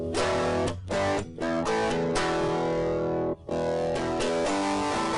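Electric guitar through a DigiTech iPB-10 distortion setting, heavily distorted, playing sustained chords and riffs, thick and saturated, with a few brief breaks between phrases.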